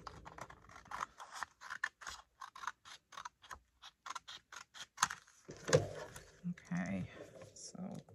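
Scissors cutting paper for a flip-flop journal, a rapid series of close, crisp snips, with someone talking softly over the later part.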